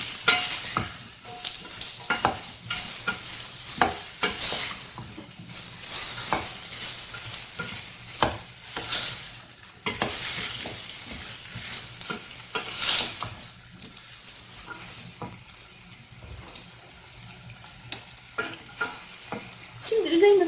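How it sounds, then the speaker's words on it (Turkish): Sautéed onions with freshly added carrots and potatoes sizzle loudly in a pan, stirred continuously so scraping and hissing run together throughout. "Şimdi havuç ve patatesi ekleyeceğim. Birazcık da bu şekilde karıştıracağım."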